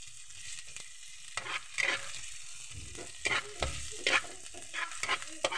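Onions sautéing in a hot pan while a utensil stirs them at intervals, with steady crackling and sizzle broken by scraping strokes, close and clear with no talking.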